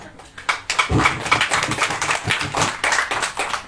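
A church congregation claps hands in a steady, fairly loud rhythm that fills the room, with no talking over it.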